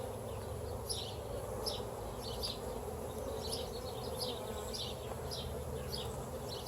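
Dense, steady buzzing of honey bees at an open hive during an inspection, a continuous close hum with many individual insects flying past, no talk.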